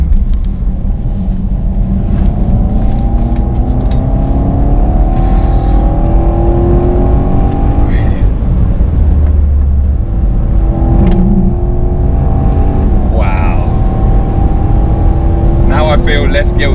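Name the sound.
2017 BMW Alpina B7 driving fast at high speed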